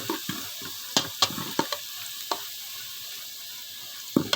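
Onions frying in a pan for qeema, a soft steady sizzle broken by sharp clicks and scrapes of a spoon stirring against the pan, close and fairly quiet.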